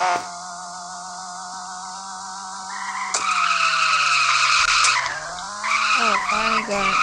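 A car in a video game screeches through a skid, tires squealing loudly over a high, revving engine tone that rises and shifts pitch as it drives.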